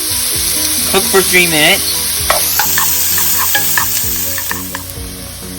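Onions frying in oil in a pan for chicken pot pie give a steady bright sizzle with scraping stirs, while a voice speaks briefly over it and low tonal music plays underneath.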